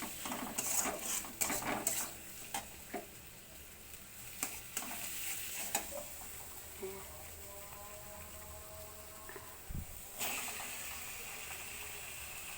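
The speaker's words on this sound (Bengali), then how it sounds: "এই যে মশলা কষাতে দিয়েছি।" Spices sizzle in a pan while being stirred for a chicken curry, with close metallic scrapes and clinks of a utensil against the pan over a soft, steady frying hiss.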